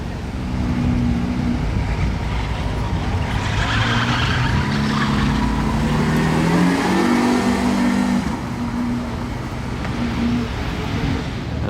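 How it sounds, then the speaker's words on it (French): A Lamborghini SVJ Roadster supercar pulls away from the casino square, its aggressive engine roaring and revving through gear changes with a hint of tire squeal, loud and close before fading slightly. "SVJ Roadster qui quitte la place du casino en live"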